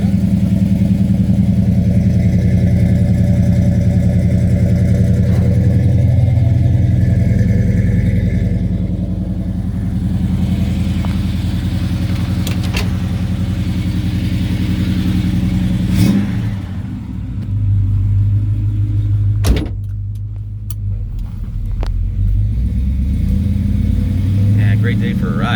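A 1969 Chevelle SS 396 with a Turbo 400 transmission running during a ride, a steady engine drone heard from inside the car with a few shifts in pitch and people talking over it.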